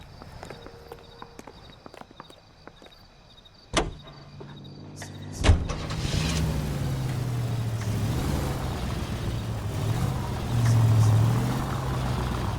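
A car door thuds shut and the engine starts, then settles into a steady running rumble as the car pulls away in L.A. Noire. Earlier there are faint clicks and a quiet background.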